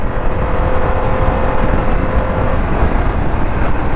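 Engine of a 2021 Harley-Davidson Pan America adventure motorcycle droning steadily while riding, a continuous loud hum mixed with wind rush, with no voices.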